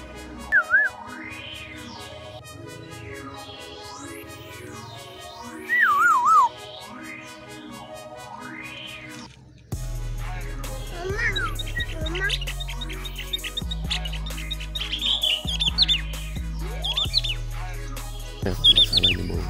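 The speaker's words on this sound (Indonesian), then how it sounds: "Masalah ini burung kopior." A caged, hand-reared Javan kopior bird chirps and whistles in repeated bright bursts at home, the calls shifting to a busier run of notes over a low rhythmic background sound in the second half.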